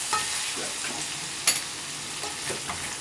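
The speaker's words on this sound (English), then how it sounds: "Stir all of this in." A spoon stirs wing sauce ingredients, likely in a pan over heat, with a continuous sizzle and a few brief clinks and scrapes.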